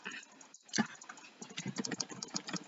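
Rapid, dense clicking from a computer mouse during a Roblox Race Clicker game, a fast irregular patter of close sharp clicks with no talk.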